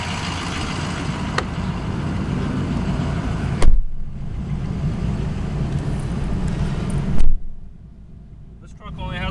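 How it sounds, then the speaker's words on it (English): A 2006 Ford F250 Power Stroke diesel pickup engine drones steadily while driving, with someone talking throughout and a couple of brief clunks before the engine noise drops away. "Let's take you on a quick test drive."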